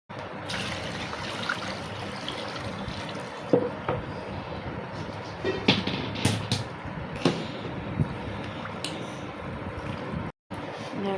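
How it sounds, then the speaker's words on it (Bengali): Pieces of goat meat are rinsed in a bowl of water in a home kitchen, giving a continuous close splashing and trickling with occasional sharper sloshes and knocks. "দেখো আর একটা জল থেকে আর একটা জলে ধুয়ে নিচ্ছে, যাতে ভালো করে এটা ধোয়া হয়ে যায়।"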